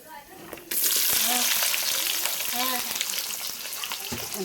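Onions and whole garam masala hit hot oil for a chicken kosha, bursting into a loud, steady sizzle that holds for the rest of the stretch, with occasional stirring scrapes and faint cookware clinks.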